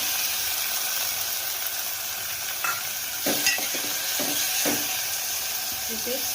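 Tomatoes frying in hot oil for appe, a steady close sizzle with a few clinks and stirring scrapes on the pan, and a voice speaking faintly underneath.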